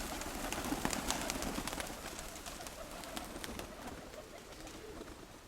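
Pigeons flutter and land outdoors, a dense, moderately loud wash of wingbeats and scuffling with scattered sharp flaps, along with faint coos.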